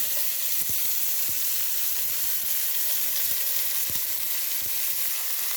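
Garlic cloves, onion and tomato sizzle steadily in a hot pan for a Jamaican-style coconut milk fish dish, a dense continuous hiss close by with a few soft stirring knocks and no talking.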